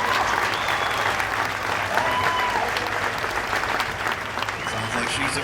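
A county fair grandstand crowd applauds and cheers a young driver at a super stock tractor pull in Chatham, New York. The sustained clapping is steady, with a few whistles over the crowd noise.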